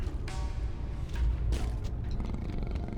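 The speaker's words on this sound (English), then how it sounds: "I hear something purring." A low, rumbling purr from an animal in the video game Tomb Raider: Legend, with a few soft thuds and shifting noises mixed in, fairly close and steady.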